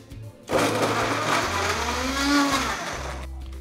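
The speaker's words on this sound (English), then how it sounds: "scoop them out in the blender" A blender whirs loudly through coconut, milk cream and sugar, starting abruptly after a quiet moment and holding a steady, whining motor drone with a slight rise in pitch partway through.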